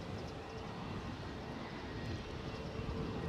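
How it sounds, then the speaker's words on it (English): A Malta Air Boeing 737 inbound at Edinburgh airport: a continuous, fairly loud broadband jet roar with steady rumble and no pauses, heard outdoors from a distance. "We have a Malta Air 737 inbound from Faro."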